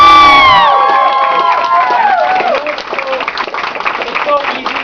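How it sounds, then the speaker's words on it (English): A convention audience cheers and applauds loudly for voice actor Josh Keaton, with high whoops and shouts at the start settling into dense clapping and crowd noise. "Please give Josh Keaton a round of applause."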